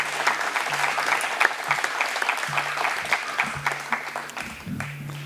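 A room full of people clapping steadily for several seconds at an institute centre launch event, dense and fairly loud, with a low hum underneath.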